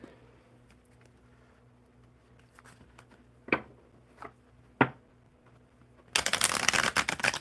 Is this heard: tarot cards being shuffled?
yes